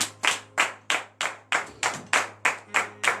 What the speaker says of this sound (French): donner de vives acclamations à notre Seigneur Jésus